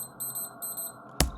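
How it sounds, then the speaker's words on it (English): A wristwatch gives three short, thin, high beeps in an even rhythm, close and fairly quiet, followed by a sharp thump. "the watch beeps 3 times."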